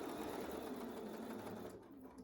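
A sewing machine runs steadily, stitching binding onto a quilt at a quarter-inch seam allowance, a continuous close whir that eases off toward the end.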